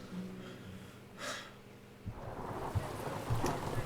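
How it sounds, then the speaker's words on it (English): Steady rain in Detroit: Become Human, with a soft rumble of thunder partway through, then denser pattering with a few close drips and splashes. "Ah, look at that. The rain."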